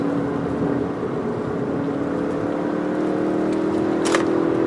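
Volkswagen Golf GTI Mk8 turbocharged engine accelerating on a winding mountain road, a steady loud drone with rising engine tone and wind and road noise inside the cabin, no talking.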